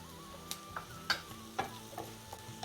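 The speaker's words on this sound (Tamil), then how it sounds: "வெங்காயத்தை பார்த்திங்கன்னா இப்போ பொரிஞ்சண்டு வந்துட்டுது" Sliced onions and fennel seeds frying in a pan, a low sizzle under a few sharp clicks and pops at uneven intervals, close and fairly quiet, with no talking.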